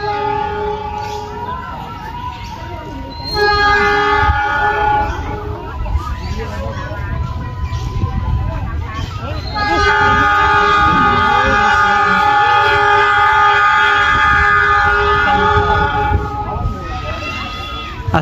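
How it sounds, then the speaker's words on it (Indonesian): Loud train horn sounding repeatedly over a rumbling crowd as a trainset undergoing trial runs approaches Garut station on the Cibatu–Garut line, with long sustained blasts and busy chatter throughout. "Semboyan 35-nya sudah menggema."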